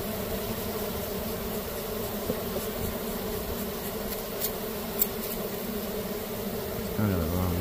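Honey bees crawling over collapsed comb during a rescue give a steady, dense insect hum that fills the whole stretch, with a soft brief rustle near the end.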